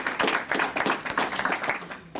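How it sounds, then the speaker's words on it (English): Audience applause at a press conference announcing a school superintendent appointment, steady clapping from a room full of people lasting about two seconds. "Let's give them all a round of applause"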